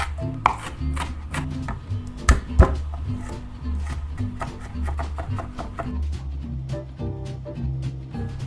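Knife chopping a large onion and garlic cloves on a cutting board, quick irregular thuds and taps close up, with a couple of sharper knocks.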